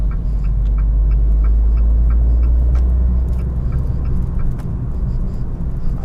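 A car driving through central London traffic gives a steady low engine rumble close by, with faint intermittent ticks and road noise over it and no talking.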